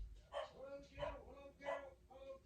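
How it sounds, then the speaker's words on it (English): A dog barks at a mail carrier at the door, four sharp barks spaced roughly half a second apart, fairly close and clear against a quiet background. "we have the dog freaking out because the mailman is here"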